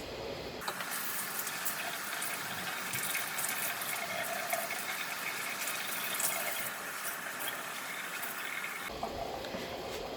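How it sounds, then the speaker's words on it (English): A sink tap runs in a steady, close gush as a pillowcase is wetted under it, starting sharply and cutting off near the end. "So now I'm coming over to the sink. I'm gonna get this wet"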